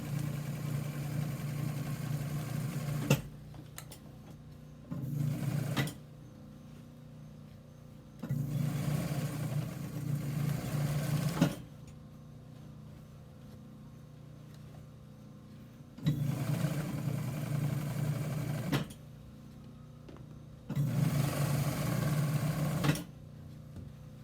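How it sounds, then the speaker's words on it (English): A sewing machine stitches chair fabric in four separate bursts of steady whirring, each a few seconds long, separated by quieter pauses with a low background hum. "Just try to get a nice straight stitch."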